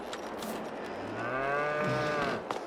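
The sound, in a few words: cows mooing in a video game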